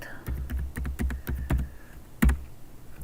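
A numeric value being typed on a computer keyboard while using AutoCAD, heard as a quick run of close, crisp key clicks, a pause, then one louder keystroke, with no talk over them.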